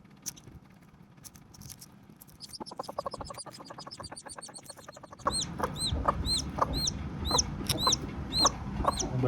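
A hen clucks repeatedly in short, rhythmic calls, close and clear, over soft pattering and scratching, joined later by high chirps from chicks.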